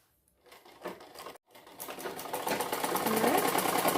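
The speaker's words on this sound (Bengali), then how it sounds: "ডাবল করে সেলাই করে দিলাম সাইডটা ডাবল করে সেলাই করে নিয়েছি" Sewing machine stitching the side seam of a bolster pillow cover twice, starting with a few short bursts, then a brief stop, then a steady loud run that builds and keeps going.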